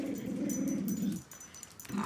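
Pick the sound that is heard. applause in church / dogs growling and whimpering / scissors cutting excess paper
dogs growling and whimpering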